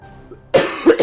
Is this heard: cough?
yes